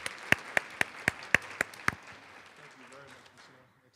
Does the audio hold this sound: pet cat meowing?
no